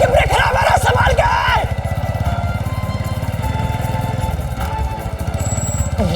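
A motorcycle with failed brakes runs close and loud, its engine a steady low rumble throughout, while a voice talks excitedly over it early on.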